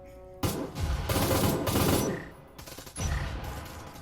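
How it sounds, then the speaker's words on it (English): Rapid bursts of gunfire and booming explosions in the VR tactical shooter game Breachers roll in dense waves, loud and chaotic, with a brief lull before another barrage. "Now there's a whole lot of explosions going from a different direction"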